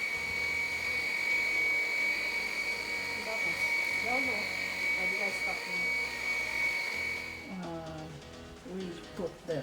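A Mi Vacuum Cleaner G10 cordless stick vacuum runs with a steady high-pitched whine and airy hiss, close and fairly loud, then cuts off near the end as people talk indoors.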